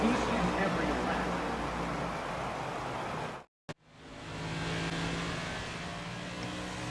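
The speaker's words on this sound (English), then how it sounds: "the engines roar into life" Race car engines roar in the NASCAR '25 game at Richmond with a loud, continuous engine drone. It cuts out to near silence for a moment, then resumes.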